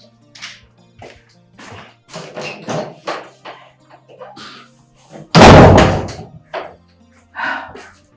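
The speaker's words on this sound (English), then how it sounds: "Let me close the door." An indoor door is shut with one loud, sharp slam close by, set among a man's and a woman's conversation before and after it.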